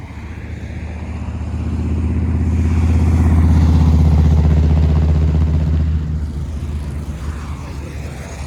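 A tractor carrying a DJ sound system rumbles in low and heavy on a road near a langar at Fatehgarh Sahib, swelling loudest as it draws near, then easing off as it settles or moves past.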